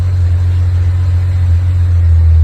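A 2007 BMW 335xi engine drones loudly and close, steady and low, while in reverse with a faulty transmission that will not engage. The pitch rises slightly near the end as the throttle opens. No voices.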